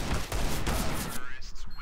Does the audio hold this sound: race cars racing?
no